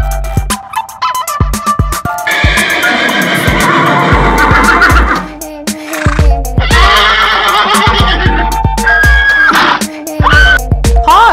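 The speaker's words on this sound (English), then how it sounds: "Horse." A horse neighs loudly and repeatedly, long shrill whinnies with breathy snorts and clattering sounds between them, close to the microphone.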